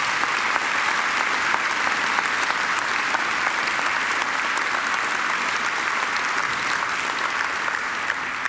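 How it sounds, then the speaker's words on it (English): A graduation ceremony audience at Macquarie applauds, a dense, steady wash of clapping from many hands that holds at an even level throughout. "I think Angela deserves another great round of applause."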